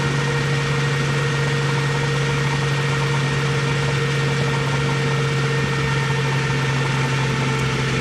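A 1954 Chevrolet 3100 five-window pickup with a 235 engine and four-speed cruising near 60 mph, giving a steady, droning engine hum with road and wind noise throughout, no speech.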